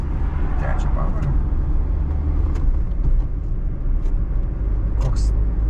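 Car in motion during a driving lesson as the driver shifts into third gear, a steady low road and engine rumble under a few brief clicks and knocks.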